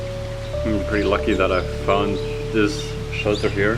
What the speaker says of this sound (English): It just started to rain, and pretty badly actually.